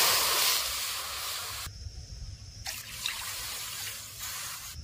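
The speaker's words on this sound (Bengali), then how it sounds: "1 বাটি সুজির জন্য এই বাটির 2 বাটি জল দেব।" Water pours from a bowl onto lightly roasted semolina in a hot pan, giving a loud, close rushing hiss that cuts off, then returns in a second, softer pour.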